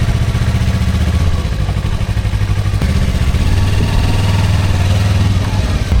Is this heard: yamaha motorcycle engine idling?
yes